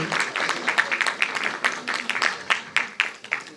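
A crowd applauding at a university agreement-signing ceremony, rhythmic clapping from many hands at moderate distance, steady for a few seconds.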